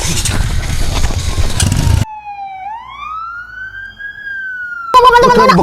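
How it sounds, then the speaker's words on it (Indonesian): Ambulance siren wailing in a single rising and falling sweep, loud and alone, between stretches of noisy street commotion. "Ambulan mah ya"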